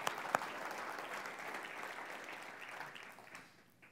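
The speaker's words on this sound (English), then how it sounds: "Let's give them a round of applause." A church congregation applauds, a dense wash of clapping that starts at once, holds steady, then tapers off near the end.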